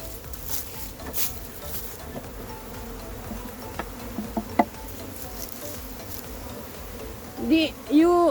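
Wild honey bees buzz faintly around large combs from a massive hive, with scattered soft taps and rustles and a closer bee droning past near the end.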